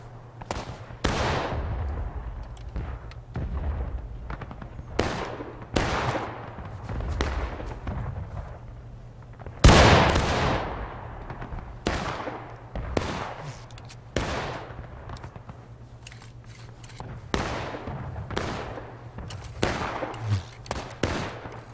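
Civil War musket fire in the game War of Rights: a long run of sharp individual shots, some near and loud, others distant, cracking irregularly over a low steady hum, with one especially loud close blast midway.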